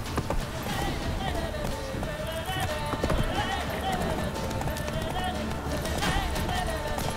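Roach the horse gallops in The Witcher 3, hooves clip-clopping in a steady fast rhythm with occasional whinnies, under continuous music and game ambience with someone talking.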